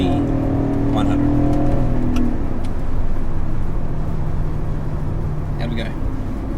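A BMW E39 540i V8 sedan pulls hard through a 0-100 km/h run, its engine note loud and rising with brief shifts, heard from inside with people talking over the noise.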